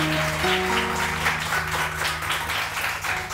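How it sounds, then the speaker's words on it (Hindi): A crowd of studio audience members applauds steadily throughout, a dense, sustained clapping with faint musical tones underneath. "ताली बजाइए जरा।"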